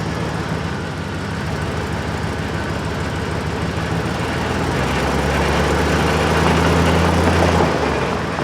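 A 4x4 extended GMC Savana camper van idles loudly and steadily, then the drivetrain is shifted into four-wheel drive, with the engine's low rumble deepening slightly near the end.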